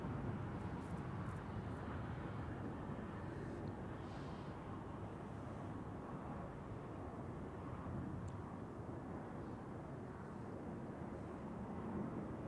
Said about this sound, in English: here we have Lufthansa, the Star Alliance livery A319 from Munich